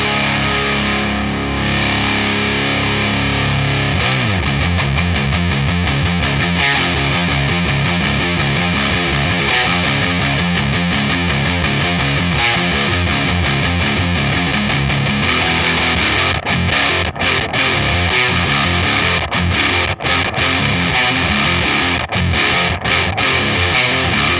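A heavily distorted electric guitar played through a RAT 2 or Sonicake Rude Mouse distortion pedal, gain below halfway, plays continuously and loudly, with thick sustained chords shifting into choppy riffing partway through.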